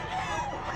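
A chicken at a pet market in Bocaue gives a short, close crowing call that wavers in pitch, standing out over a low crowd murmur in the background.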